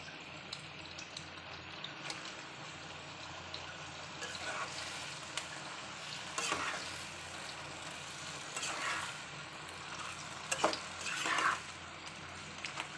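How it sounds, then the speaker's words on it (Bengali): Malabar spinach being stirred into simmering red lentil dal, with soft scraping of a utensil against the pot over a low, continuous sizzle and bubbling, heard up close with occasional sharper clinks. "আমার ডালটা যখন এই পর্যায়ে, তখন আমি এর মধ্যে এখন পুঁই শাকটা অ্যাড করব।"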